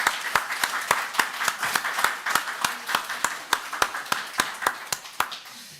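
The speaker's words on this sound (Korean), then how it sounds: "우리 서로에게 감사와 환영의 박수 한번 하도록 하겠습니다." A church congregation at a relocation thanksgiving service claps to welcome and thank one another; crisp, rhythmic claps repeat steadily over a softer bed of scattered applause, close and lively, tapering off at the end.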